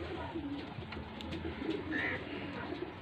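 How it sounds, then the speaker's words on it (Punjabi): Pigeons kept for flying in a loft in Faisalabad give low, soft cooing. It rises at a steady level with a brief brighter call near the middle and no talk over it. "ਆਹ ਪਟਾਈ ਵਾਲੇ ਆ ਕਬੂਤਰ ਜਿਹੜੇ ਸੀਜ਼ਨ 'ਚ ਉਡਾਉਣੇ ਆ"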